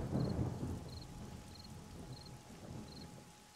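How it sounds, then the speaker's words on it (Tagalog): Steady rain with low rumbling thunder, a broad hiss and roll strongest at the start and easing off, with a faint repeating electronic beep and no talking. "Di ko ganahan kay ulan."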